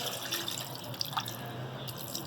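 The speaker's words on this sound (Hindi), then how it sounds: "ये हम पानी डाल देंगे।" Water is poured into a cooking pot for boiling chicken with salt, a soft steady splashing and trickling stream with a few drips, close and fairly quiet, no talk.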